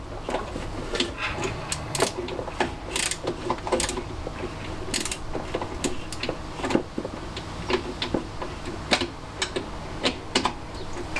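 A 13 mm ratchet clicks in quick, irregular bursts while a classic Fiat 500 engine is being refitted, with sharp close-up metallic ticks over low workshop rumble.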